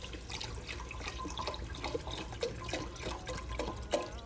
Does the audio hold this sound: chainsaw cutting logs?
no